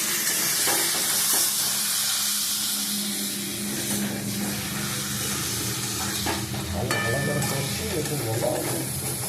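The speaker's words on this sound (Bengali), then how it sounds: "এবার চিকেনটা দিয়ে দিচ্ছি, চিকেন দিয়ে কষে নিয়ে জল দিয়ে দিই।" Chicken frying with spices in a pan gives a constant loud sizzle and hiss with steam, with occasional scraping and stirring clatter throughout.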